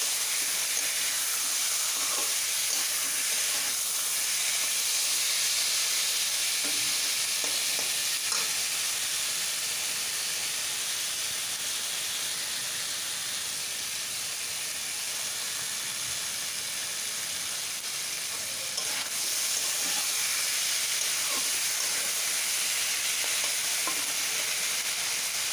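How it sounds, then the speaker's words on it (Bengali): Batta fish fry in hot oil, a steady close sizzle and hiss running unbroken throughout, with occasional faint stirring scrapes and no voices. "আমি এবার এই মাছগুলো সব ভেজে দিলাম"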